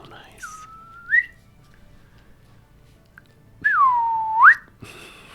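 A voice imitates a traditional elvish whistle, giving two clear, loud whistled phrases that slide and dip in pitch, separated by a pause, with no talking.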